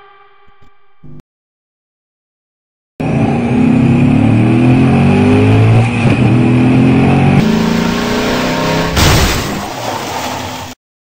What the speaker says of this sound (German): Hans fuhr viel zu schnell, er konnte sich nicht nehmen, einen Umweg und er baute einen Unfall